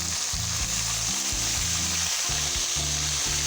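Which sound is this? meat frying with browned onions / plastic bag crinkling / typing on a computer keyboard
meat frying with browned onions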